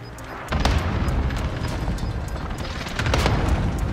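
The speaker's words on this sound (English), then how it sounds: "Allied precision airstrike incoming." Precision airstrike explosions in a battle royale video game, heavy booming blasts rumbling continuously, with a sharp impact near the start and another surge toward the end, loud and close.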